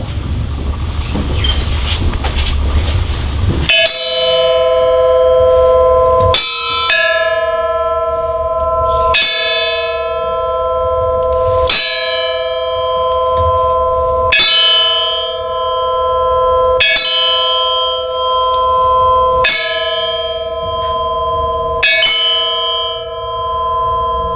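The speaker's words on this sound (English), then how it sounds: "bells were rung throughout the world in joy and in sorrow" Church bells ring out for Armistice Day, a series of about eight loud, resonant strikes spaced every few seconds, each blooming into a long humming decay after a short stretch of background noise.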